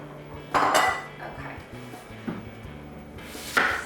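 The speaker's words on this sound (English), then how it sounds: "So Taryn is cutting up apples now." Apples being cut with a knife on a sheet pan in a home kitchen, giving a few scattered clinks and knocks against metal at uneven intervals, close and moderately loud.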